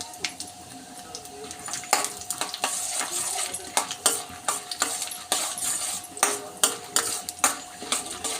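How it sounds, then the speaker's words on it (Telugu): Peanuts sizzle steadily in a pan while a spatula scrapes and stirs in repeated, rhythmic strokes, cooking for homemade semiya upma; no one speaks. "వేరుశనగ గింజలు వేస్తున్నాను అవి కొద్దిగా ఫ్రై అవ్వాలి"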